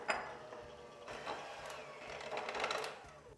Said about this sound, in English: keep your mixer on low speed so your flour doesn't go flying everywhere